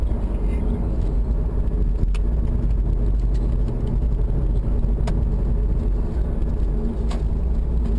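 A Porsche Cayman drives on the Thruxton circuit, its engine a steady, loud drone with road and wind noise throughout, no clear revving changes.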